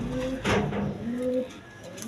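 Bombay pigeons, a pair nesting in a clay pot with eggs, coo in low, rolling phrases, two or three close calls with a brief rustle or knock between them.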